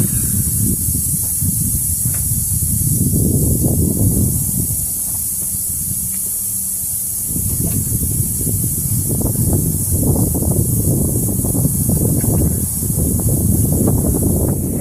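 Breathy boost air hissing from a leak on an Isuzu NPR/NRR diesel truck engine comes in uneven bursts over a faint steady background, pausing briefly midway before resuming in choppy pulses.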